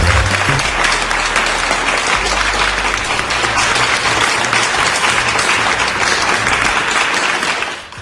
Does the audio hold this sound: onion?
no